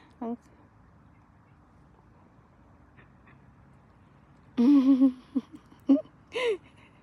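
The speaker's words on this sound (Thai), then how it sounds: "ดูความน่ารักของเป็ด" A few sharp nasal quacks from wild ducks on water in Sweden, clustered near the end after a single early call, close and fairly loud over a quiet background.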